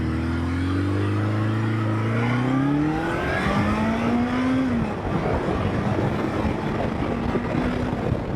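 A 1979 Kawasaki KZ motorcycle on a spring shakedown ride, its engine pulling loud and close in third gear with a rising then falling pitch, with rushing wind noise beneath the engine throughout.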